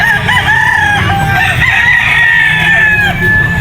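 Yellow-legged Peacock gamefowl stag at a pet market, loud close crowing and clucking from several birds with repeated harsh calls layered over busy background din.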